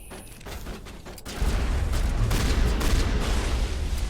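Shotgun fire and dense combat noise in the video game Mass Effect Legendary Edition, with several sharp bursts early and then a loud, continuous roar of blasts and explosions, with no talking.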